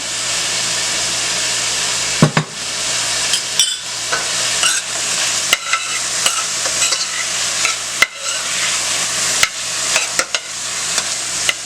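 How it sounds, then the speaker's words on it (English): Onions frying in olive oil with a little butter give a steady, close sizzle with a dense hiss, broken by sharp clinks and scrapes of stirring throughout, with no voices. "And to this olive oil, I'm gonna add some onions. I'm going to also add a little butter to that."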